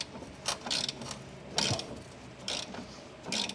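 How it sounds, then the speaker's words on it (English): A spring compressor cranks down on a coil spring during a suspension overhaul of a Mercedes 300E 3.4 AMG, giving about six short bursts of ratcheting clicks at a steady pace, close up. "I'm going to compress the spring."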